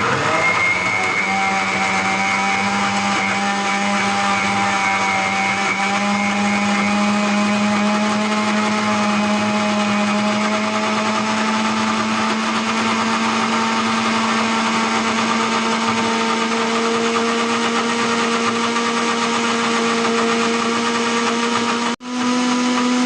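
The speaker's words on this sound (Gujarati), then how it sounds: "હવે આ મિક્સરમાં આપણે રસને ફેવરી લઈએ।" A mixer grinder whirs steadily as it blends mango pulp with sugar and cold water, a loud, continuous motor whine close by that cuts briefly near the end.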